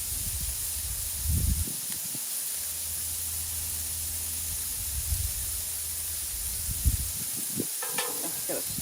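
Frozen carrots and peas hit a hot Blackstone griddle and sizzle with a steady, loud hiss. Low scraping thuds come and go, and a brief clatter sounds near the end.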